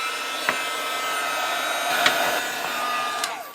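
A heat tool blows steadily on pink craft paint, a continuous airy whoosh like a hair dryer running for a few seconds with faint clicks, close and alone.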